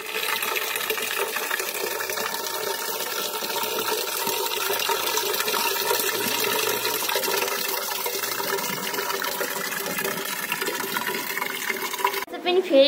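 Water gushes steadily from a shared tap into a container, a continuous close rushing stream that holds even for about twelve seconds before shifting and clattering briefly at the end.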